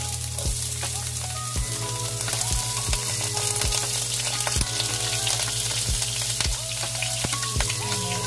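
Onions frying in a little oil produce a constant close hiss of sizzling, with a faint, regular ticking running through it and no voices.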